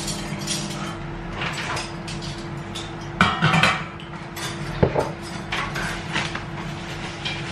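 A spoon being put away among dishes in a home kitchen, with scattered metallic clinks and clatters, two sharper knocks, over a steady low hum, close by, with no talk.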